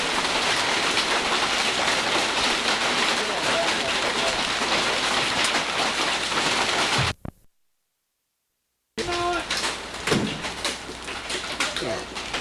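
Heavy storm rain pours down outdoors in a loud, dense steady wash, cutting out briefly to silence before resuming with people talking over it.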